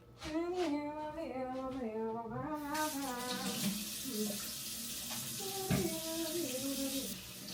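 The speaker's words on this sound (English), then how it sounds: "Wash your produce." Oranges washed under a running kitchen tap, a steady close rush of water splashing into a sink, with a voice heard briefly at the start.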